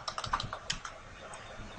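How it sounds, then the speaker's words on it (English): Typing on a computer keyboard: a quick run of soft key clicks in the first second, then a few sparse taps as it trails off, close and fairly quiet, with no talk. "I do this by typing in the keyword CCN trigger"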